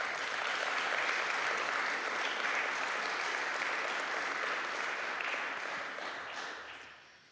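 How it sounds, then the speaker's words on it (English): Sustained clapping from an audience in a room at an evening political gathering in Cary, steady and dense before fading out at the end. "And I think that deserves a round of applause."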